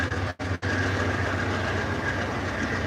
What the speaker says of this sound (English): train full of cars